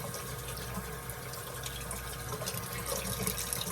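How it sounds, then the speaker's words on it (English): Warm water runs from a tap in a steady, soft stream while a cup is rinsed before stripping. "we're just going to go ahead and rinse the cup,"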